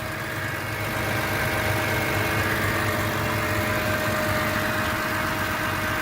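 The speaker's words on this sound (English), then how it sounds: "The engine sounds very, very strong and very healthy." A 2001 BMW M3 engine idles steadily up close, a smooth continuous hum with a strong low rumble and faint mechanical whine, with no voices over it.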